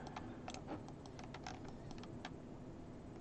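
Fast, light keystrokes on a computer keyboard during a Dawn of War match clatter faintly in bursts over a low steady hum.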